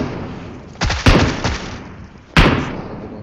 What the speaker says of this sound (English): where am I shooting my AK?